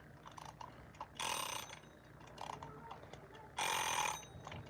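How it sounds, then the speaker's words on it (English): A chicken-shaped egg timer ticking, a quiet rapid mechanical clicking broken by two louder ratcheting whirs, close and alone. "I want to hear that egg timer."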